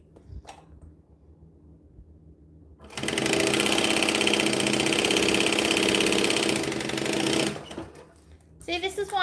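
A sewing machine stitches a bag in one long, steady, loud run of several seconds, with quieter handling sounds before and after.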